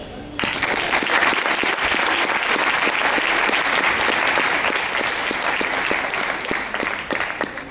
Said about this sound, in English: Let us give our parents a resounding applause.